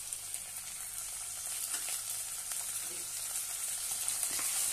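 A chopped tomato sautés in a pan for a village-style brinjal curry, giving a steady, faint hiss and sizzle that runs continuously without pause and stays fairly soft throughout.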